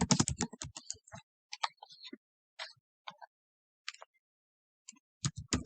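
Keystrokes on a computer keyboard while a quiz question is typed out, a quick burst of clicks at the start, then scattered single taps with pauses, ending in another fast run.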